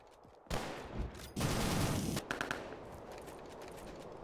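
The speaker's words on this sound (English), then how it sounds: "I think we have to shoot them here." Automatic gunfire in the shooter game RealRTCW: dense bursts of rapid shots roar in two sustained volleys, then fade to scattered, quieter distant fire.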